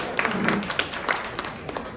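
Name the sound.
audience applause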